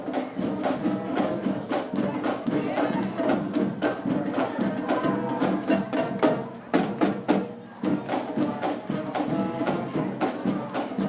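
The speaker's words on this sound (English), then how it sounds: "Huge crowd here tonight, Todd." Crowd of fans in the stands at a Somerville High School football game against Gloucester, a steady broad roar of many voices with cheering swells throughout, loud and continuous.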